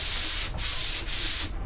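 Hand sanding of drywall, three smooth left-to-right strokes with a sanding block against the wall, close and loud with brief pauses between passes.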